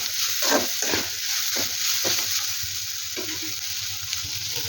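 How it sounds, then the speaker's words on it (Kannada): Grated coconut fries with onion in a pan, giving a loud continuous sizzle and hiss close up, broken by repeated scraping stirs of a spoon against the pan. "1 ಕಪ್ಪಷ್ಟು ಕಾಯಿ ತುರಿಯನ್ನು ಸೇರಿಸ್ಕೊಂಡು ಈರುಳ್ಳಿ ಜೊತೆ ಫ್ರೈ ಮಾಡ್ಕೊತೀನಿ"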